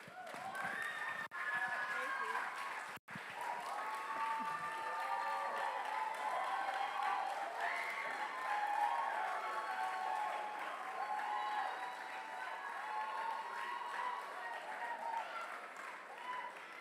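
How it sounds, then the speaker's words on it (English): An audience claps steadily for a presenting group at a creative lab event, sustained applause mixed with cheering and chatter, a speaker's voice heard over it. "Please give another round of applause for Group 7"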